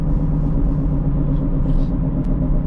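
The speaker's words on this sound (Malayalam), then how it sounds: "രണ്ട് മൂന്ന് വണ്ടികളൊക്കെ അങ്ങോട്ടും ഒക്കെ പോകുന്നുണ്ട്" Several cars pass along a road near a roundabout before Muttrah port, Oman, in the early morning, making a steady, fairly loud low rumble throughout with no talking.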